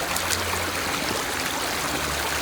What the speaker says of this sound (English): We're going across a little creek.